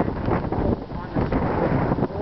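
Heavy wind in New Brunswick roars steadily across the microphone, a loud broadband rush with gusty swells and buffeting over about two seconds.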